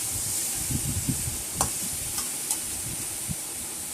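Raw green mango pieces, cut and sun-dried with salt and turmeric, fry in oil for a village-style pickle, giving a steady broad sizzle with scattered stirring knocks and scrapes close by, no voices.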